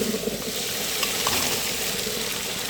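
Tengra and pabda fish are cooking in a pan of spiced oil with eggplant, giving a continuous dense sizzle with faint stirring underneath, close and steady with no talk.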